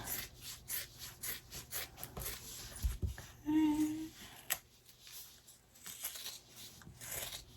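Scissors snip through excess zipper tape and fabric from an in-the-hoop pocket zipper bag, with a few close, crisp cuts and rustling between them.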